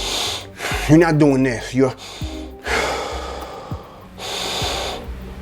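A person demonstrates shallow breathing rather than breathing from the diaphragm: several sharp, loud inhales and sighing exhales, close to the mic, mixed with brief speech.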